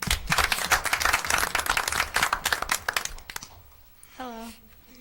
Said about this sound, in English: we also want to welcome them with a round of applause as well